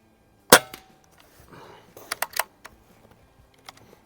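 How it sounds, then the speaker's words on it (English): Crosman 3622 air pistol fired with JSB Hades pellets at 25 yards: one sharp, close report, then quieter mechanical clicks and clacks from cocking and loading. "So I'm shooting 25 yards here."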